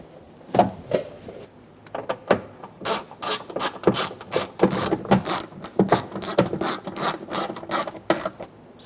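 A ratchet clicks in quick repeated bursts while snugging door lock actuator bolts inside a rear door of a 2014-2018 Chevrolet Silverado 1500, close up with metallic rattles between strokes.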